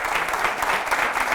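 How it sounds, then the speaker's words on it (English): An audience claps steadily, a dense even wash of many hands with no single claps standing out and no voices over it. "Clap it up, y'all."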